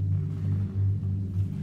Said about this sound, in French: on entendit gronder le tonnerre